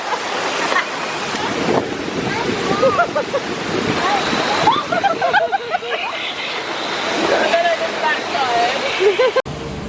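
Rushing water on the Kali River Rapids raft ride at Disney's Animal Kingdom, a steady loud churning wash with wind buffeting the microphone and excited voices calling out throughout.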